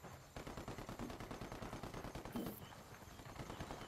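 Rapid, steady automatic gunfire from the video game Ghost Recon Wildlands during an ambush, a continuous burst of shots for several seconds, heard without talk.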